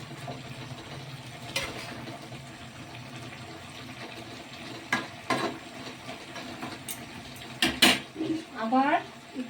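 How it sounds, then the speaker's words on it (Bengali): Dried fish is spread and stirred in a pan, giving quiet sizzling under scattered sharp clinks and scrapes of a utensil against the metal that grow busier toward the end. "এই মাছটা আমি এভাবে ছড়িয়ে দিয়ে একটু নাড়িয়ে দিব।"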